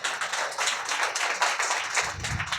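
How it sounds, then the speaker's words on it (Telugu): A church congregation claps loudly at a Calvary gathering in Vikarabad, dense overlapping handclaps forming a steady wash of applause with a low rumble of voices rising near the end. "గట్టిగా చప్పట్లు కొట్టాం."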